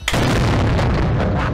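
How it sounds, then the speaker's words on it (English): A loud explosion sound effect booms in after a brief silence and rolls on as a dense, sustained rumble for over a second, with no talk over it. "Explosion, please."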